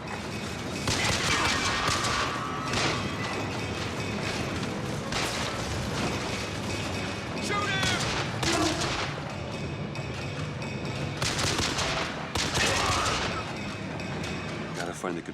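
Gunfire in BioShock Infinite, dense bursts of shots and blasts rolling almost continuously over fifteen seconds, loud and cluttered, with a voice talking over parts of it.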